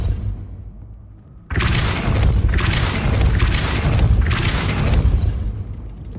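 A Depulso spell is cast in the video game Hogwarts Legacy, bursting in with a sudden loud boom that rolls into sustained crashing, rumbling magical blasts pulsing for several seconds.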